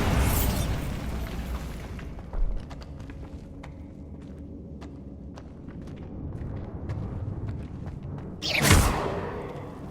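A Bombarda blasting spell from Hogwarts Legacy goes off in loud booming bursts at the start and again near the end, with quieter footsteps and small pops in between.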